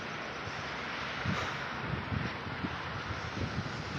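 Wind blows steadily and roars across the microphone, with occasional low buffeting gusts, at a hilltop fort viewpoint.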